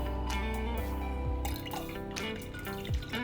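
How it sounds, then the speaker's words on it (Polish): Tea for kombucha is poured into a glass jar of water, a close liquid trickle with gurgling, dripping splashes and rising filling tones throughout. "Kolejny etap to przelanie herbaty do słoja z wodą, co niniejszym uczynię."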